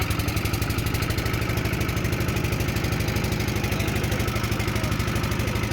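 A boat's motor runs steadily just after starting as the craft leaves a riverside picnic spot in the evening, a loud, close, even engine chug with a rapid regular pulse throughout, no voices.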